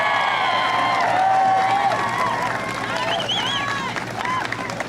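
A large outdoor political rally crowd cheers and whoops steadily, with whistles and scattered shouts rising over a dense, continuous roar of voices.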